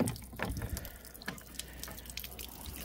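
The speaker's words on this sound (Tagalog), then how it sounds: "Wait lang, yung tubig tumatapon." Water splashes and spills from a fish tank during an outdoor water change, with irregular pouring, gurgling and dripping close by and no talking.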